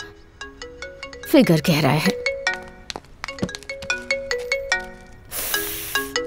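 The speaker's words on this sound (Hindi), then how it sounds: "फोन" A phone ringtone plays a bright, repeating melodic chime pattern that sounds clearly through the scene, interrupted by a burst of voices and a brief noisy hiss before the tune resumes.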